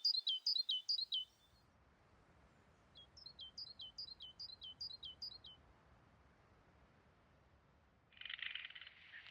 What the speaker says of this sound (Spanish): Los pájaros anuncian la llegada de un nuevo día.